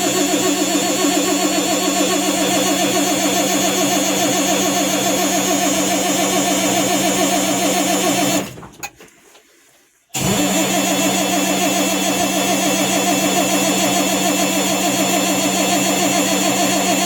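Cold engine on a classic car cranking over and over in a steady fast rhythm, close and loud, with one cylinder trying to fire; cranking stops for a couple of seconds, then resumes.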